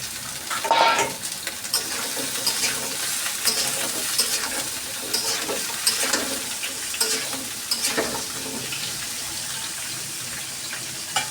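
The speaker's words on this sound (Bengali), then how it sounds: "তরকারিটা তো ভালো করে ভেজে নিয়েছি" Pumpkin and mixed vegetable curry with five-spice seeds frying in a pan, a continuous sizzle broken by repeated scraping and stirring strokes, close and fairly loud, no voices.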